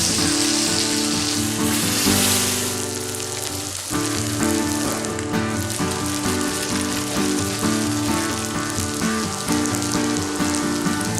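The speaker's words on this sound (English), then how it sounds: "Ah, the sound of a searing burger." A veggie burger sears in a thin film of oil in a pan, giving a loud, steady, crackling sizzle that runs unbroken throughout with no voices.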